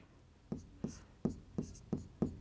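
Chalk or pen writing during a maths lesson, six sharp tapping strokes at a steady rhythm, close and clear with no talk.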